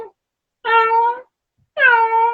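A person mimics a cat's meow twice, two drawn-out, clear voiced mews separated by a short silence, close and fairly loud, during a family read-aloud session.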